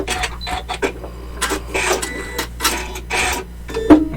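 A Janome Continental M7 sewing machine runs in a close, steady mechanical chatter of stitching, with a short sharp click near the end as the thread cutter fires.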